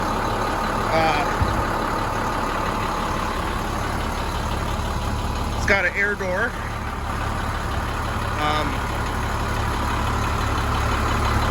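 A 2003 Blue Bird 3800 school bus with a DT466E diesel engine and MD3060 transmission idles with a steady low rumble throughout, while someone talks over it close by.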